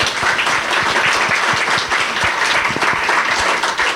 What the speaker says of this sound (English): So I'd like to make a round of applause to you all too as well.